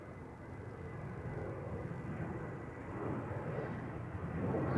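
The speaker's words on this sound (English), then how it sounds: "Another Vueling A320 to Bilbao is lining up on center" A Vueling Airbus A320 lines up on the runway at Amsterdam Schiphol, its jet engines a distant low rumble that grows slowly louder.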